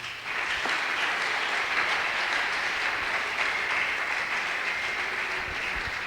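A church congregation applauds to acclaim the Lord during a revival service, a sustained, even roar of many hands clapping together that holds steady for several seconds with no talk over it.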